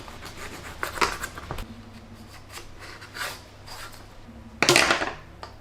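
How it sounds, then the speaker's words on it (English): A knife cuts through a baked spinach, silver beet and feta pastry roll, giving a few crisp crunching strokes with a louder, brighter crackle of flaky pastry near the end, close and alone. "I'll cut it and show you how it looks like."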